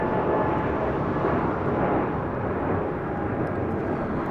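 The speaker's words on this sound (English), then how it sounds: "Moxie 535, taking off to Richmond, Virginia on an A220-300" Breeze Airways Airbus A220-300 taking off at LAX, a continuous loud broadband jet roar that holds steady throughout.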